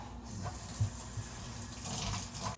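Water poured from a measuring spoon into dry brownie mix in a kitchen, a few short soft splashes and trickles, fairly quiet, with no talk over it.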